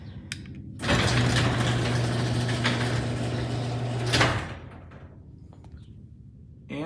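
A motorized garage door runs for about three and a half seconds during a safety reverse test, a loud steady mechanical rumble and hum that stops abruptly, with quiet room noise before and after.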